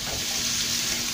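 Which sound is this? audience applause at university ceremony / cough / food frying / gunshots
food frying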